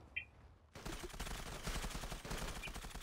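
Rapid shotgun gunfire in the online shooter Zula breaks in suddenly after a quiet moment and continues as dense, loud, overlapping blasts and crackle.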